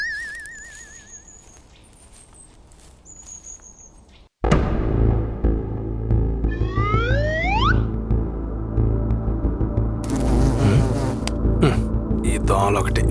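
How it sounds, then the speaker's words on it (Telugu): Mosquitoes buzz in a comedy sketch as a thin, wavering whine for the first few seconds, fairly quiet. Loud music and other effects then cut in abruptly and take over. "ఈ దోమలు ఒకటి."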